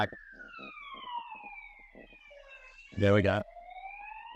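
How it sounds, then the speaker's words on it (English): Ambulance siren wailing in the background with long rising and falling tones, a person speaking briefly over it. "Ambulance in the background."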